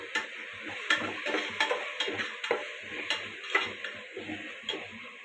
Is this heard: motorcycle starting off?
no